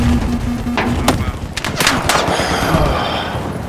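Machine gun fire in a multiplayer shooter, several loud sharp bursts and cracks in quick succession close by, with game noise underneath.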